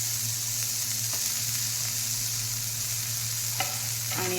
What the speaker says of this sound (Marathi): आता मीठ घातल्यानंतर आणखी अर्धा मिनिट त्याला व्यवस्थित परतून घेऊया।